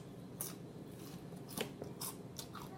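Crunching of fried chicken skin being bitten and chewed up close, with several crisp, sharp crackles in an uneven rhythm against a quiet background.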